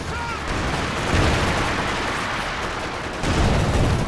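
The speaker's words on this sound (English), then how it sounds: "Another low angle barrage coming in" A low-angle artillery barrage and gunfire rumble through a Company of Heroes 2 battle, a dense, loud, continuous wash of explosions and shots with no clear gaps.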